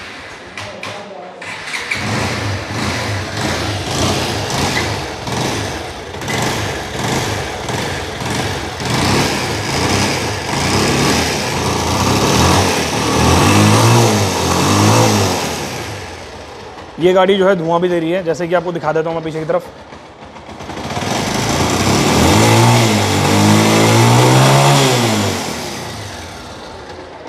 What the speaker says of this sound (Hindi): ये मैं स्टार्ट करता हूँ गाड़ी और इसका साउंड सुनाता हूँ।